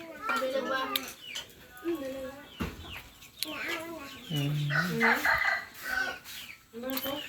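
Farmyard chickens at a rural Thai home, clucking and crowing repeatedly at close range, mixed in with a person talking throughout.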